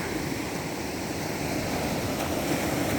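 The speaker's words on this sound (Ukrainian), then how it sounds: "Ну Зараз трішки волни, тому хвилі." Sea waves washing steadily near a hotel beach on clear water, a continuous broadband surf wash that stays loud and even throughout with no speech.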